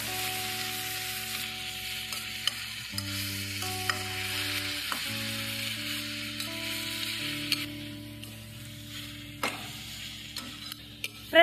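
Drumstick leaves sautéing in a pan, a steady soft sizzle with stirring scrapes and a few sharper clicks near the end, close and fairly quiet, with no talking.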